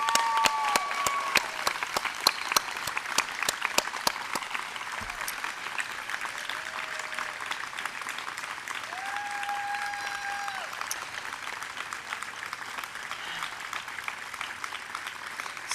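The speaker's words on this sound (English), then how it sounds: "Let's have a round of applause for the DHS class of" An audience at a school graduation ceremony for the class of 2025 claps continuously and fairly loudly throughout, a dense crackle of many hands with no voices standing out.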